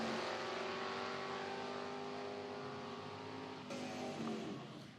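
A drag race car at an IHRA Outlaw Nitro Series event revs hard as it launches, a sustained high engine wail that steps up in pitch near the end.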